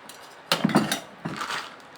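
Tiny toy ladles handled in a small metal set, giving a few light clinks and rattles in two short bursts, close and fairly quiet.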